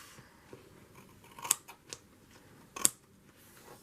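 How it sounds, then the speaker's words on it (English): Scissors snip through paper being trimmed in a journal, a couple of crisp sharp cuts with small rustles between, close and fairly quiet with no talking. "And I'm going to trim this off."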